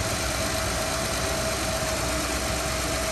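A 2006 Honda Pilot's 3.5-liter six-cylinder engine idles with a steady, even hum and a faint whine, close and constant with no talking.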